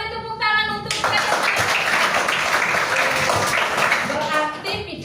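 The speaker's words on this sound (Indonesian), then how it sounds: "Kita beri tepuk tangan untuk mereka." Pupils in a classroom burst into loud, rapid group clapping that lasts about four seconds, with children's voices heard just before and after the applause.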